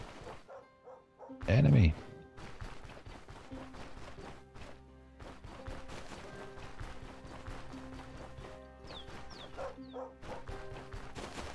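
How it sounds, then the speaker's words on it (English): A dog in the video game Stoneshard gives a sharp, loud bark amid busy game sounds and music, with a voice speaking briefly in the mix. "Bark, bark, bark."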